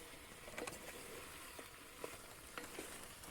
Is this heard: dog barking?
no